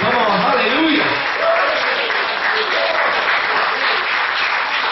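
A church congregation applauds in a long, dense wash of clapping that stays loud and steady throughout, with a voice briefly audible at the start.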